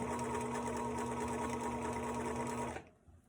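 A sewing machine stitches T-shirt fabric for a pillow in one loud, steady, close mechanical whir that runs continuously, then stops abruptly near the end.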